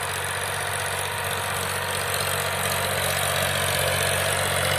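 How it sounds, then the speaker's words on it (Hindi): A farmer's tractor engine idles steadily in a field after the paddy harvest, a loud, continuous low drone close by with no pauses and no voices. "ट्रैक्टर है भाई इनका।"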